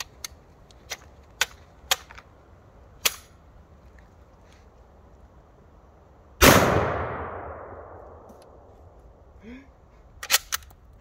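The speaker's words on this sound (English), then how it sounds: "we have the 308 Smurf training ground out of the M1A. Shooting at some shaving cream down there." A .308 M1A rifle firing Smurf training rounds at shaving cream downrange gives one big loud blast with a long decaying echo. Several sharp clicks and small cracks come before it, and a few more follow.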